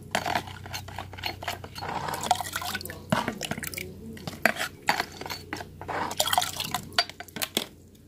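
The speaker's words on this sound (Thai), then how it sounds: "เทลงในน้ำ1ลิตรเลยค่ะ" Liquid solution poured into one litre of water while mixing a homemade chili plant fertilizer, heard as close, irregular splashing and dripping with light clinks of a container, no talking.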